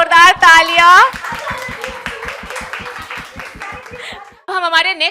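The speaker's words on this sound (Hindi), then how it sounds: "बहुत जोरदार तालियां" A game-show audience claps for the first-round winners, a steady run of sharp, evenly spaced handclaps over about three seconds, with people talking and voices rising at the start and end.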